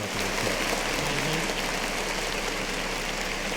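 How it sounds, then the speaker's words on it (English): Applause from a podcast studio crowd, a steady dense wash of clapping with a low hum underneath, holding evenly throughout. "Clap it up one time for yourself"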